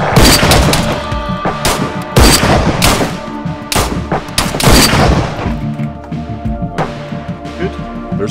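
Gunfire in the survival video game DayZ: a rapid series of loud, sharp shots in bursts, some echoing booms, close and dominant with no voices over them.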